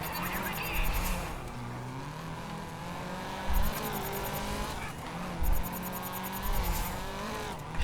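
Race car engine roaring and revving in Race Driver: GRiD, loud and continuous with shifting pitch, tire squeals and brief bumps, while a player talks now and then.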